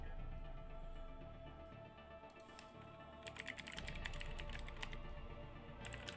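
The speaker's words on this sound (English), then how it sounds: "Yeah, I'm just typing to him now." Typing on a computer keyboard during an online game session, with quiet irregular clusters of key clicks and a short pause, close but faint.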